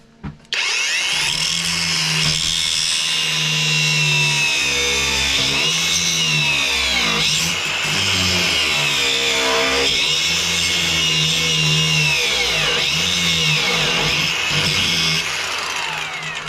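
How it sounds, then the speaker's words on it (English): An angle grinder grinds a 6mm steel plate to fit a crossmember, running loud and continuous for most of the stretch, its pitch dipping and rising as the disc bites and eases off the metal. "Might just grind a little bit out of that there."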